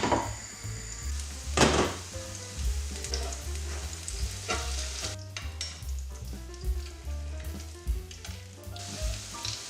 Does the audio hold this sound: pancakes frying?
yes